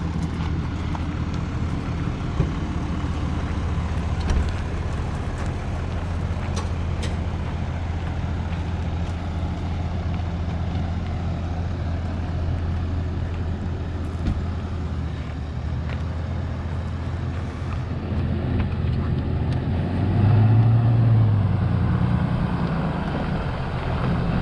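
RV being pulled out by a transporter vehicle, a steady low engine drone with occasional clanks and creaks, rising to a heavier throttle surge toward the end.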